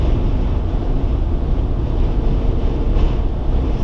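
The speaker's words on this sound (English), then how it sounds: "Very gusty winds here." Gusty wind buffets the microphone aboard a ferry crossing choppy water, a loud low rumbling roar that swells and dips in uneven gusts, with no voices.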